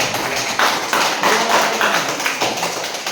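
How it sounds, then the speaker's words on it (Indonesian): Group applause at an indoor gathering: dense, steady clapping from a room of people lasting about three seconds, with no talk over it. "sekali lagi tepuk tangan untuk kelompok Tebal"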